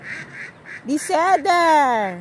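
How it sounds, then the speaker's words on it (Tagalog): Ducks quack in a few short calls outdoors at the Philippine Embassy in Israel, then a close, loud, drawn-out nasal honking call, with a voice speaking briefly over them. "Ang dami nilang alagang duck."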